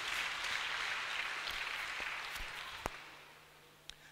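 A church congregation applauding during a Sunday service, a broad steady patter of clapping that slowly fades, with a few sharp knocks toward the end.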